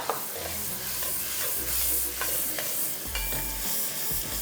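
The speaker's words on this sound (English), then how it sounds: "So now the caramelization of onions, ginger, garlic and the tempering is very important" Chopped onions with green chilies, ginger and garlic frying for dal makhani, a steady sizzle with stirring scrapes and occasional low bumps of a pan, close and continuous.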